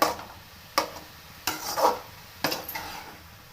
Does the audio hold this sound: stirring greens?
yes